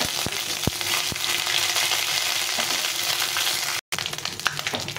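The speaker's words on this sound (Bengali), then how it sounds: "আদাটা কিছু ভাজা ভাজা হয়ে গেছে" Ginger paste fries in a pan for a pointed gourd dish, with a dense, close sizzle and occasional sharp clicks of stirring, briefly dropping out before resuming.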